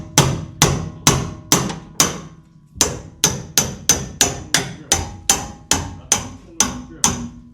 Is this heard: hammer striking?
yes